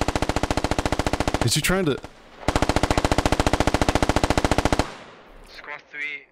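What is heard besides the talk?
gunfire in the video game Squad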